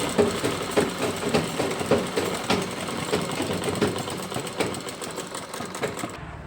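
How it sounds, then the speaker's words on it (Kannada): Close, rhythmic rattling and thumping comes from a sewing machine running a line of stitches just below a blouse waistband, steady for several seconds before stopping abruptly at the end. "ನೋಡಿ ಸೊಂಟದ ಪಟ್ಟಿಗೆ ಕೆಳಗಡೆ ಹೊಲಿಗೆ ಹಾಕೋಬಿಡೋಣ,"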